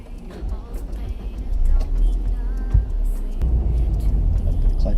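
A manual-transmission car is restarted after stalling, its engine catching and then running with a steady low rumble under voices talking inside the cabin.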